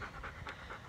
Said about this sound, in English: So you can probably hear Kuma panting